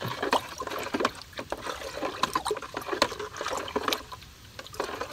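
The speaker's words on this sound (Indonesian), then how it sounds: "Aduk merata." Pesticide mix being stirred in water for spraying chili plants, giving sloshing, trickling liquid sounds with small irregular splashes throughout, close and steady.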